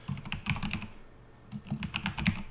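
Quick, uneven keystrokes clatter on a computer keyboard, two bursts of typing separated by a brief pause, close and clear with no voices.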